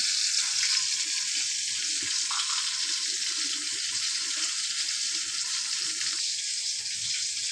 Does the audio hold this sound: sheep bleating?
no